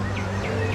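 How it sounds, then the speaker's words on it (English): Artificial birdsong plays from outdoor speakers in a shaded, busy theme park queue area, three faint repeated chirps over a low crowd hum. "You can hear birds that are artificial. It's the speakers over there, but still, these do sound like birds."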